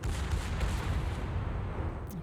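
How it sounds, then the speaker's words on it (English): Battleship main guns fire a salvo in a naval warfare video game, a dense, loud rumbling boom that rolls on continuously and then begins to thin out at the end. "That was a heck of a salvo."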